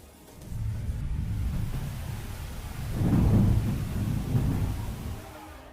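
Heavy rain with thunder: a deep rolling rumble builds and swells midway over a steady wash of rain, fairly loud and continuous with no voices.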